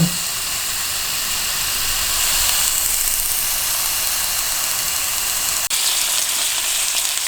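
Duck breast frying skin side down in a moderately hot pan, a steady loud close sizzle and hiss lasting throughout, with one brief sharp click near the end and no voices.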